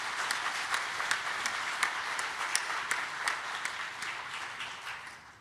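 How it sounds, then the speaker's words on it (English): An audience at an admitted students day event applauds to welcome a student panel, steady moderate clapping from many hands that fades toward the end. "we want to do a round of applause and a welcome to our students"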